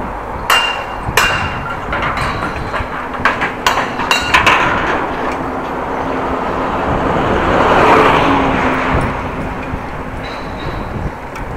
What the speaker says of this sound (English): Very silent car, BMW.